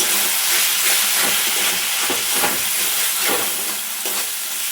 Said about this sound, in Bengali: আমার মশলাটা অনেকটাই ভাজা ভাজা হয়ে গেছে